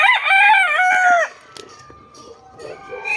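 A gamefowl rooster lets out one loud, close crow lasting just over a second, followed by quieter clucking and faint farmyard noise.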